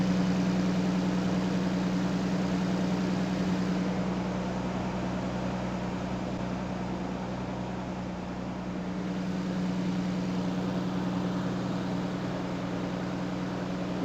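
A 1989 Nissan Skyline GT-R with an HKS exhaust idles steadily, a deep, rumbly low drone with a constant even tone and slight swell midway, heard close and alone.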